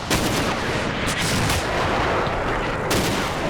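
Heavy gunfire and cannon blasts crash through a Combat Mission: Cold War battle, a dense, loud barrage of overlapping booms and rattling shots that never lets up.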